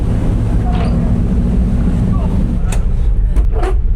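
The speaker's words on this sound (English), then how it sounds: "This is the high-speed boat." Steady engine rumble and rushing water and wind noise from a fast-moving OceanJet high-speed ferry in the Philippines, passing small islands, with a few faint voices briefly heard over the drone.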